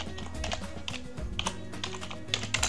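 Rapid keystrokes on a computer keyboard while a cell name is typed into an Excel spreadsheet, an uneven run of close, crisp taps with no talking.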